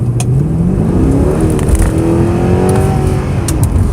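A Mercedes C63 AMG engine roars loudly at full throttle, its pitch climbing steadily as it accelerates from about 40 to 80 km/h, with a few sharp clicks or shifts over the strain.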